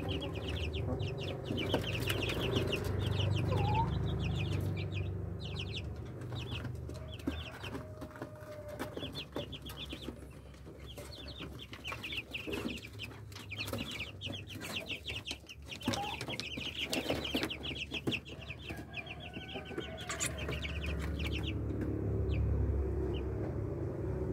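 Three-week-old Rhode Island chicks cluck and cheep almost nonstop in a farm pen, a dense chorus of small birds close to the recorder, with a low background rumble underneath and no talking.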